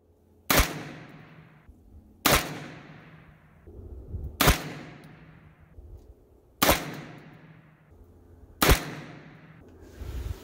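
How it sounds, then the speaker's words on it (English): Five evenly spaced shots ring out from a Primary Arms FM9 pistol caliber carbine, each a sharp close crack with a short decaying echo, about two seconds apart. "Let's take another 5 shots."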